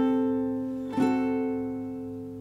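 Fingerpicked guitar playing the fourth bar of an etude, first ending: a single sustained chord ringing out steadily with a light pluck near the one-second mark, close and clear with no talking.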